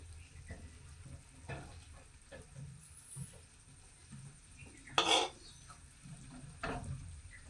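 Metal spoon scrapes and clinks against a pan and plate as a cooked cashew and potato curry from Konkan is served out. The soft, scattered sounds include one brighter clatter midway, with a low hum underneath.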